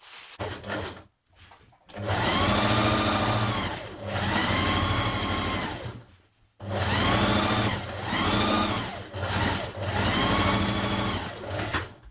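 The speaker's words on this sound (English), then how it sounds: "we're going to stitch along here on both the front and back pieces, a few millimetres away from the edge" A sewing machine runs a straight stay stitch a few millimetres from the edge of skirt front and back pieces for a New Look 6035 skirt, in four sustained loud runs separated by brief pauses.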